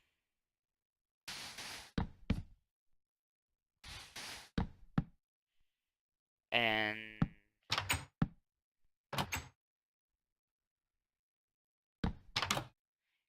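Wooden doors being placed in Minecraft, a few short clunky thunks and clicks in separate bursts with pauses between them, one a brief creaky swing, with a single word spoken briefly.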